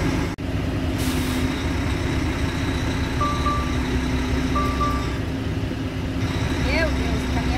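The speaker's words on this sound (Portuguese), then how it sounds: "Puxar o caminhão pra frente agora" A truck at a loading site in Uberlândia pulls forward, its engine holding a steady, loud, close rumble throughout with a couple of short beeps and a brief hiss.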